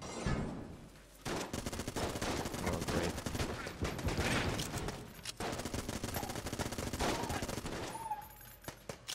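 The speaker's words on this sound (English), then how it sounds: "Amazing rate of fire from this gun." Rapid automatic gunfire from a weapon in the Enter the Gungeon video game, dense rattling bursts over several seconds with brief pauses, fairly quiet overall.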